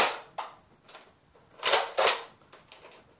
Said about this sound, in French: c'est parti pour les tests fire du Recon CS6